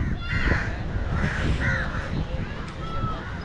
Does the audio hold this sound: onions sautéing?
no